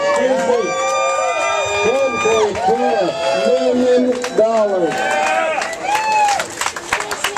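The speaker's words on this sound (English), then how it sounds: "Big round of applause" A crowd at the stage of the 2012 Bisbee's Black & Blue Marlin Tournament applauds and whoops steadily while an announcer keeps talking over the noise.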